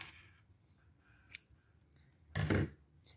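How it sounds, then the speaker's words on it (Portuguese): Scissors snip through nautical cord while a crochet-and-leather bag is finished, a quiet close click followed by one louder, sharp cut near the end. "eu vou cortar o fio"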